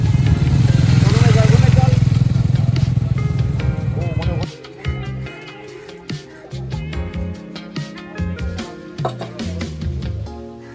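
A motorcycle ridden on a weekend trip near a beach camp roars loudly and steadily for about four seconds, then drops to a lower, uneven rumble with rattling clatter.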